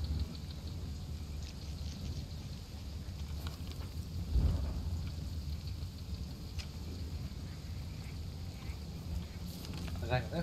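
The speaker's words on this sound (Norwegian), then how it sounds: "Det regner fælt i joggeren her." Steady heavy rain pours outdoors on a jogging route, a dense constant wash with low wind rumble, faint and continuous throughout.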